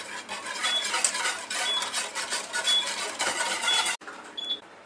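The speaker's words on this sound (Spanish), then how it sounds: "Lo pasamos por el colador. Seguiremos removiendo." A utensil stirring the strained egg-yolk mixture for a Belén tart in a bowl, steady scraping and clinking strokes, then a short pause and a faint final scrape.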